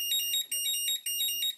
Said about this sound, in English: And that's how loud it beeps when it's done.